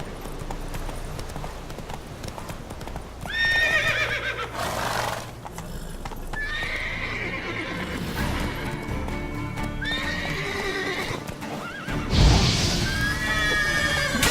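In The Witcher 3 video game, a horse gives several loud whinnies and neighs over steady clip-clop hoofbeats as it trots, with no speech.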